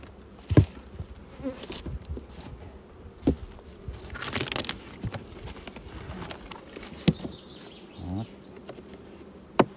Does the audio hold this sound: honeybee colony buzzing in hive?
yes